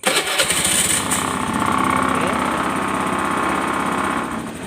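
A Honda Beat FI scooter, running late on its oil change and blowing white exhaust smoke, starts with a brief crank and then settles into a loud, steady, close idle.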